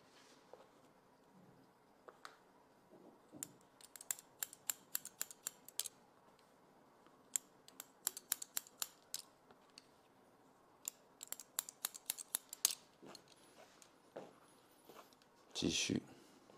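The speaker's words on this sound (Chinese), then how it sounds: "随着头型修剪。" Scissors snip through short hair during a haircut, a quiet stream of crisp metallic cuts coming in quick irregular bursts, with a voice faintly audible in the background.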